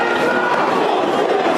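A large crowd of protesters fills a street at night under a dusk-to-dawn curfew, a dense, continuous roar of many voices with no single sound standing out.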